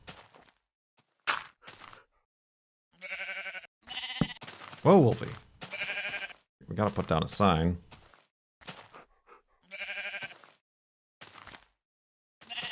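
Pink sheep bleating in a Minecraft-style video game, heard as a few short bleats scattered among frequent nearby speech and game noises.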